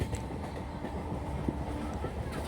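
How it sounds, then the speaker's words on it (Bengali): A Howrah–Ranchi express train runs along its rails with a steady, rumbling roar heard from inside, marked by faint clicks from the wheels. "আমরা আছি এখন ট্রেনে।"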